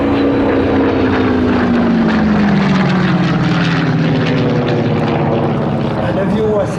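A 1000-horsepower propeller fighter plane at the La Ferté-Alais air show roars past loudly, its engine drone sliding down in pitch as it passes, with a voice talking over it.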